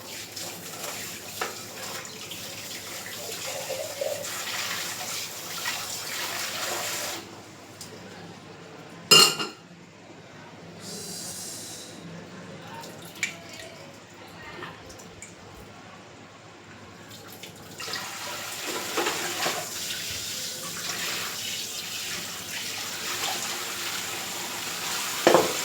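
Dishes and pots being washed under a running tap in a home kitchen, with steady water flow and scattered clinks of utensils, fuller at the start and end and quieter in the middle, plus one sharp clatter.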